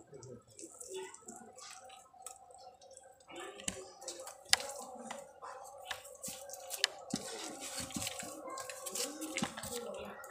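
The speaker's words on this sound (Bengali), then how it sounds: "তালটাকে আমি ছেঁকে নেব।" Palm fruit pulp being strained by hand at home, with close, wet squishing, dripping and small clicks in steady, uneven handfuls, and faint voices in the background.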